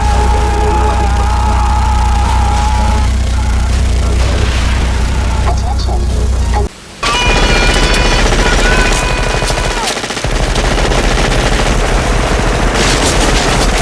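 Continuous minigun fire blasts in the Far Cry Blood Dragon video game, a loud dense roar of rapid shots layered with booms and explosions, with a brief near-silent gap midway before the barrage resumes.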